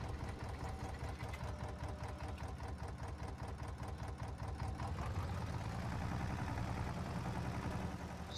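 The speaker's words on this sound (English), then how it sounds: "we got the old tractor out. He's hauling the tester around" In Farming Simulator 25, an old tractor engine chugs with a rapid, even, knocking idle under a dense mechanical rumble. It runs continuously and moderately close, with the tone shifting slightly toward the end.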